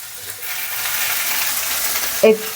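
Tomatoes frying in a pan with salt for tomato chutney, a steady close sizzle with a short louder clatter near the end.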